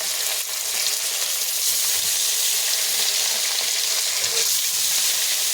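Fish sizzling steadily in a hot pan, a bright continuous hiss that holds evenly throughout with occasional faint clinks and no talking.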